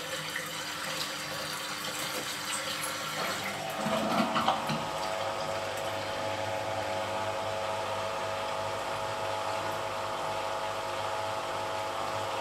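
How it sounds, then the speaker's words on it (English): A Beko washing machine drains water in a steady, faint wash of rushing liquid and a low pump hum, with a brief gurgling surge partway through. "it's just draining some water out now."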